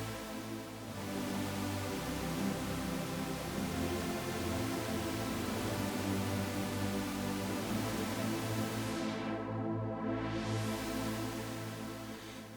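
A wide, lush pad from the JP6K software synth on its Wide Beauty preset, swelling in and holding as one dense, steady sustained chord for about twelve seconds before easing off, played alone.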